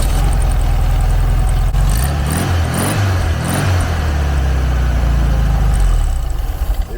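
A 1972 Volkswagen Super Beetle's air-cooled engine, unrestored and running just after its first start in over 20 years, loud and close with a steady throbbing idle and a few brief revs.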